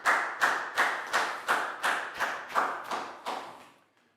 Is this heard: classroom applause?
yes